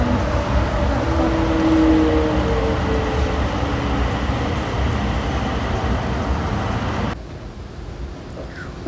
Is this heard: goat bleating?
no